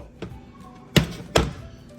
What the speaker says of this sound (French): J'ai mis la marmite sur le feu